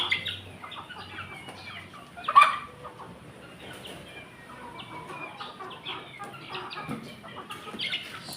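A hen clucks and squawks after laying eggs in a backyard coop, short broken clucks scattered throughout with one louder squawk, moderately close, and faint household sounds behind.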